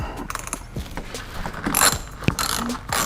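An 8mm socket on a ratchet works loose the small belly pan bolts under a BMW 335i, making quick pawl clicks with scattered metallic ticks and handling noise up close.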